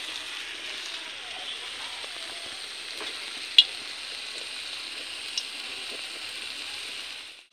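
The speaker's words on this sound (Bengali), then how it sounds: "তো আমি একটা একটা বানিয়ে নেব আর তেলে ভেজে নেব" Vegetarian fish-shaped pieces fry in oil in a village kitchen with an even, constant sizzling hiss and one or two sharp clicks, close and uninterrupted, with no talking.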